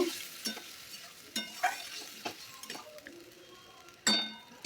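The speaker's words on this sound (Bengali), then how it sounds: "দিয়ে আবার একটু ভালো করে নাড়াচাড়া করে নেব" Boiled bottle gourd stirred in a pan for lau shukto, soft scraping strokes and occasional metal clinks of a spoon against the pan, sparse and close with quiet gaps between.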